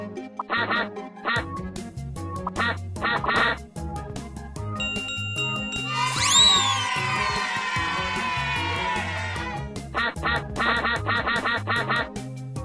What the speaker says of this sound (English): Oh no! All the ducks have escaped!